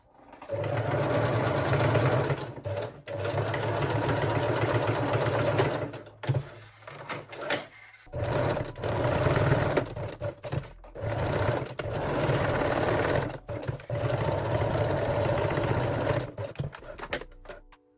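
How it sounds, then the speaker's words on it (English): A sewing machine runs a zigzag stitch through fabric in several sustained bursts, each a few seconds long and separated by short pauses, with a close, loud mechanical whir and rhythmic chatter. "And sew them in a place using zigzag stitch."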